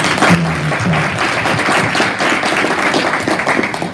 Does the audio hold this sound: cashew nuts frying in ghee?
no